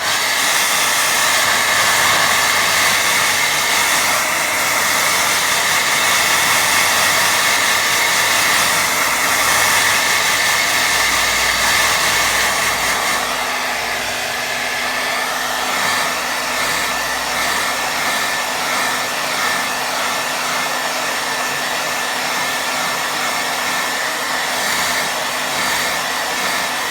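A hair dryer blowing steadily on a watercolour painting, a loud close continuous whirring roar for nearly half a minute, its tone shifting slightly partway through as it is moved.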